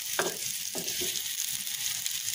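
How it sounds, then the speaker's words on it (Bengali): Onion, chilli and garlic sizzle steadily in hot oil in a pan, a close, continuous crackling hiss with a few soft scrapes of a spatula stirring near the start. "এখন এখানে পেঁয়াজ মরিচ আর রসুন দিয়ে একটু ফ্রাই করে দিচ্ছি"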